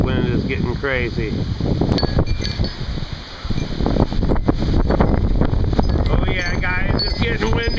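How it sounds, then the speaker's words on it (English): Strong gusty wind in a severe thunderstorm, roaring and buffeting the microphone almost continuously, with a person talking intermittently over it. "I don't know if you can hear that, but the wind is getting crazy."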